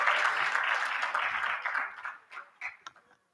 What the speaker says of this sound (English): Can we please give again the round of applause?